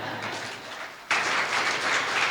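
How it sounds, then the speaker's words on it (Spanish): A church congregation at a celebration service breaks into sudden, loud applause after a quieter moment, with dense, sustained clapping that fills the space and carries on to the end. "Un gran aplauso."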